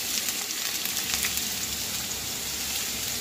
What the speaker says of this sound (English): Sauteing our vegetables. Everybody's going into the pan.